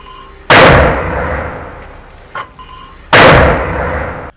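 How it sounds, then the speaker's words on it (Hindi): Mortar shells are fired in war footage: two sharp, loud blasts a few seconds apart, each followed by a decaying rumbling tail, with a small faint pop between them. "अल-अक्सा ब्रिगेड ने आईडीएफ के कमांड और कंट्रोल चौकियों पर मोटर गोले दागे हैं।"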